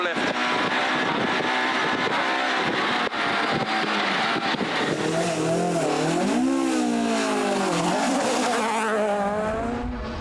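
A Toyota Corolla rally car drives a stage at the Galway International Rally 2017, its engine roaring steadily and loud close by, with revs rising and falling through the gears as it corners.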